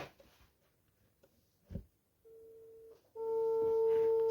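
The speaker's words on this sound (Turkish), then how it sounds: "Çalıyor." Phone ringback tone heard while placing a call: a steady electronic tone begins midway, pauses, then returns louder and sustained, in an otherwise quiet room.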